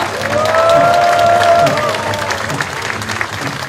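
Crowd cheering and applause fill a political party founding rally in Korea, a loud sustained roar of clapping and shouts with a whistle-like tone rising early, then gradually thinning, with voices mixed into the crowd noise.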